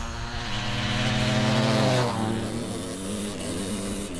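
The world's most powerful dirt bikes roar off the line in a drag race, the engine note climbing loudly and steadily before dropping at a gear change and continuing to pull, close and dominant.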